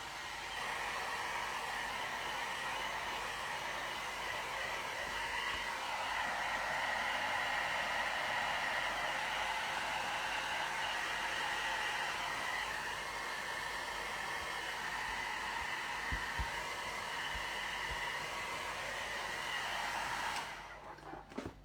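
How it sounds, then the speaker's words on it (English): A hair dryer blows steadily at close range for about twenty seconds while drying acrylic ink, a loud continuous whooshing roar that cuts off near the end. "Just going to swap over to my hairdryer."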